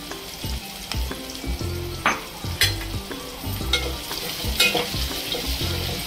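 Whole cinnamon, green cardamom and cloves crackle and sizzle in hot oil with steady close frying and a few sharp pops and stirring scrapes, with no voices.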